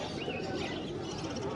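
Pigeons at a busy pigeon market in Bangladesh, soft cooing and chirps blending into a dense, steady crowd murmur with no clear single bird standing out.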